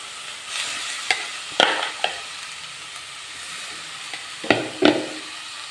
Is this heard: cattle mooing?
no